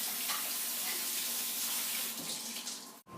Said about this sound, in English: I'm going to wash my hands one more time before I add the icing